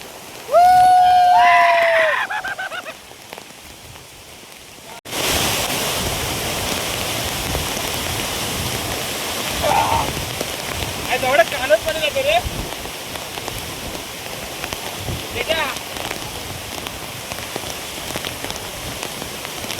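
The Morzot waterfall near Mahad pours in a steady, broad rushing roar that fills everything after a brief tonal, voice-like sound at the start.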